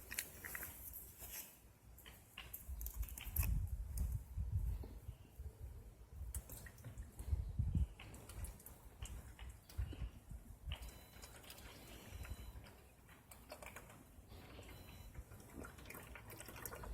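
Purple Power vehicle soap poured into a Greenworks Pro 2200 PSI pressure washer, a steady liquid pour and trickle lasting throughout, fairly close, with a few low knocks and bumps along the way.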